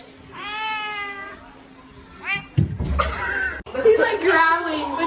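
A cat lets out long drawn meows, with a short meow in the middle and then a low growl or caterwaul, close to the mic, as people speak and laugh around it.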